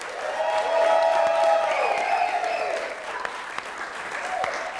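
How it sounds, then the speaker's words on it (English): Sustained applause from a comedy club audience fills the room, steady and fairly loud, with a few voices rising above the clapping before it slowly tapers. "Let's please have another round of applause for our comics tonight"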